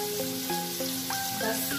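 Onions fry in a pan with a dense, even hiss of sizzling oil, heard close in a brief burst over tonal background sound.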